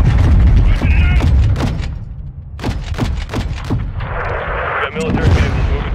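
Gunfire in Call of Duty Modern Warfare 2 during a firefight in Mexico: repeated sharp shots and bursts, some heavy and booming, with brief pauses and a rushing noise between volleys.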